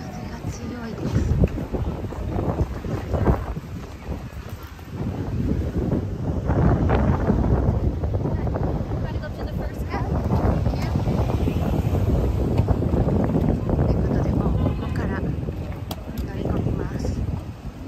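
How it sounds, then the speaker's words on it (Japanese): Strong, cold wind buffets the microphone outdoors at an airport, a loud rumbling gusting roar that swells and persists, with voices talking over it. "寒い思ったより風が強いです。"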